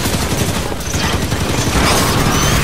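Dense, continuous burst of rapid automatic gunfire in the video game Halo 5, loud and chaotic with overlapping shots and no pauses.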